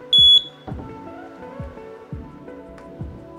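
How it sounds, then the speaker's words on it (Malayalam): A smart home panic alarm set off by a door opening gives two quick, shrill beeps, then a steady run of soft rhythmic clicks and thumps close by. "ഡോർ തുറന്നപ്പോൾ പാനിക് അലാം അടിക്കാൻ തുടങ്ങിയിരിക്കുന്നു."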